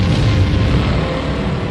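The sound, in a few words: explosion sound effect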